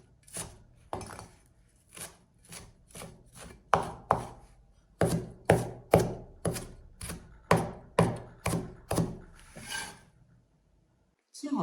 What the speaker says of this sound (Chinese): 然后我们用刀随便给它切几刀。